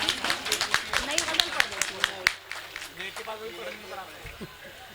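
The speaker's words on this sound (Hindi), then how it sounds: "तालियाँ बजा दीजिए" Audience applause at a mushaira held during an Urs fair in Muradnagar, Ghaziabad: a burst of scattered, fairly close hand clapping in the first half, thinning out as a murmuring crowd and voices carry on underneath.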